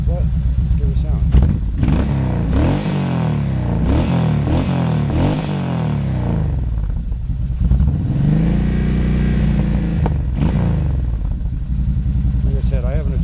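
A Yamaha VL1500 motorcycle fitted with slash-cut GMan exhaust pipes, not yet adjusted, revs loudly and repeatedly up and down, its deep rumbling engine surging in close bursts throughout.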